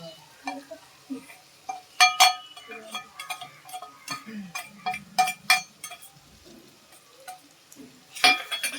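Turmeric, black masala and Kashmiri chilli fry in a pan for dried prawns, with soft sizzling and repeated clinks of a spoon stirring against the metal, some loud and sharp, throughout.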